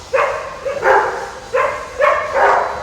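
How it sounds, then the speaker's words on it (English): Several dogs barking inside a dog daycare and raw food shop in Port Moody, BC: about five loud, close barks in quick irregular succession. "sometimes when new people come in, the dogs get a little bit, you know, feisty when someone else is new"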